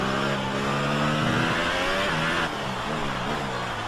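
Formula 1 car from the F1 2018 video game on Hypersoft tyres, engine screaming at high revs down the back straight after turn 6 at Abu Dhabi, a steady loud whine with harmonics that climb and then shift as it changes gear.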